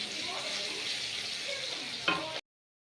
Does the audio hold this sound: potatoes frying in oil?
yes